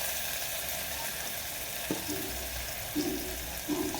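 Raw onions frying in hot oil inside a pressure cooker, a steady broadband sizzle throughout with a few short stirring scrapes and clinks near the middle and end.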